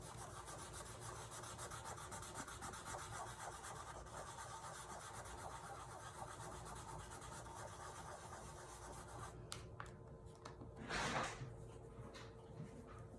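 A baby wipe rubs wet paint off a sign with a soft, steady scrubbing and wiping sound, close and quiet, and one brief louder swipe near the end.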